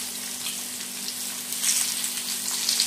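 Malvani-style fish pieces sizzle in hot oil in a pan, a close, continuous crackling fry with no talking.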